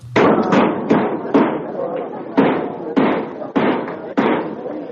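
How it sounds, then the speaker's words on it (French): Damaged metal roofing, wrecked by torrential overnight rains, bangs and slams in a series of about eight loud, irregular thuds, each ringing briefly before the next. "C'est le bruit des toitures endommagées."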